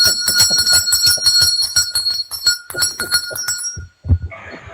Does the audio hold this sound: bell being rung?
yes